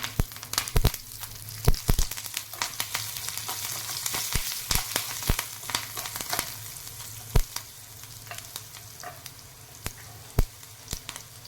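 Asafoetida, curry leaves and chili hit hot oil for a tempering: a steady frying sizzle broken by many sharp pops and crackles scattered across the stretch, close and without speech.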